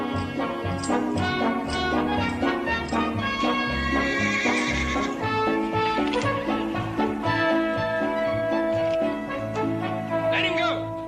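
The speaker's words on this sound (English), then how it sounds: "that's a big old star horse" A horse whinnies loudly and hooves clatter while a bronco is broken in a Western setting, heard together with dramatic orchestral music and shouting voices.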